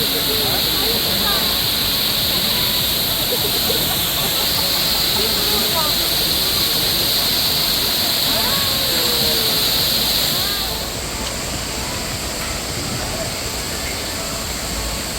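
Mantayupan Falls in Cebu roars as a loud, constant, broadband rush of falling water, steady throughout and close by, easing slightly near the end.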